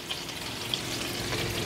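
Bola-bola meatballs fry in a covered pan, a steady soft sizzle with faint crackles and no voices.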